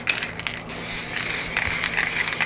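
A can of bone white spray paint hisses steadily as it is sprayed across the top of a space-scene painting, with brief metallic rattles near the start, close and fairly loud.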